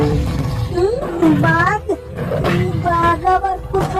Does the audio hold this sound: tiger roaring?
yes